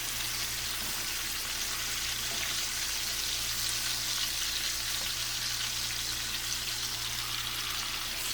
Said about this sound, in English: let these cook for about 5 or 6 minutes until they're brown